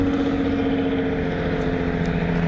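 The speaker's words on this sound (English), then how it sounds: "And the noisy trucks again." Heavy trucks rumble past outside, a continuous loud low engine drone with steady tonal hum and no talking.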